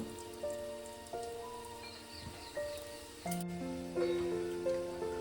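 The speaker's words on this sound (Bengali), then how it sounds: "এবার আমি এগুলোকে এক এক করে কড়াই দিয়ে দেব তেল খুব গরম করিনি আস্তে আস্তে দিয়ে আমি এগুলোকে" Rose-shaped golap pitha frying one by one in a wok of moderately hot oil gives a steady, dense crackling sizzle throughout, close and even. Sustained musical tones play over it, and no one speaks.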